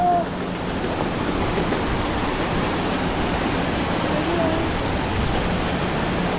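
A mountain stream near Kedarnath rushes in a steady, dense roar of flowing water, close and unbroken throughout.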